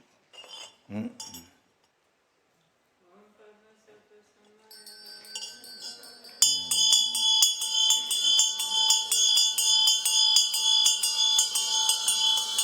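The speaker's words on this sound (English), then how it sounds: "So you ring the bell and meditate on that." A meditation bell rung during a Buddhist teaching, entering with a sharp strike and then sustaining a bright, shimmering metallic ring that fills the second half after a few quieter knocks and movements.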